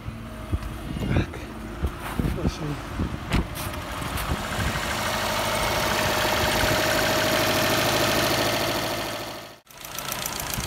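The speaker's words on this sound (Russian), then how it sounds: "И заводим мотор и смотрим, течет или не течет." A car engine idles steadily after a filter is fitted into its cooling system, a continuous mid-low running drone holding at even loudness, preceded by a few knocks and handling noises, with a brief cut near the end.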